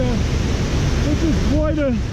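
Crooked Falls, a large waterfall on a hiking trail, gives a steady, loud rushing roar, with wind buffeting the microphone throughout.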